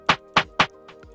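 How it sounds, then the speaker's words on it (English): Three crisp, bright Afrobeats snare hits land in quick, even succession, followed by two softer ghost strokes, dry and close with no speech. "Then next up we have a snare."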